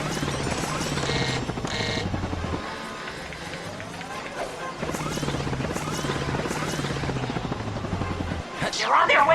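Spinning helipad gadget rotor from Ratchet and Clank Future: A Crack in Time, a steady whirring chop running through the whole clip under game music and character voices.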